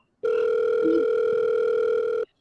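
During a stage play, a telephone sounds a single steady electronic tone that lasts about two seconds before cutting off abruptly, clear and alone.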